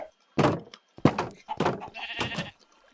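A series of sheep bleats from a Pixworld block-building game farm, four distinct calls in quick succession, close and fairly loud, with no talking over them.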